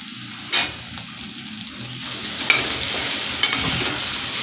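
Chopped tomato hits a hot pan of sautéed ginger and garlic for Puneri misal, sizzling and crackling steadily with a few scraping stirs of a spoon, close by and without talk.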